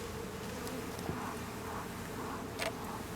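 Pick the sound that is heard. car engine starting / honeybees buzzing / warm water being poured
honeybees buzzing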